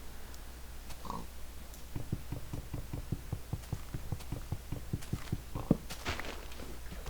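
A pig in the game Minecraft grunts and oinks while evenly spaced footstep thuds tap along beneath it, the steps starting about two seconds in and continuing steadily to the end over a faint low hum.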